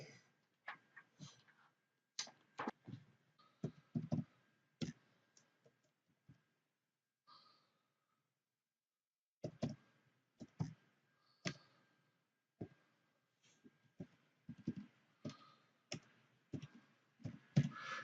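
Remote-control clicks as a URL is entered on an Amazon Fire TV Stick's on-screen keyboard: a long series of sharp, close, irregular clicks in short bursts, with a brief pause midway and no talk.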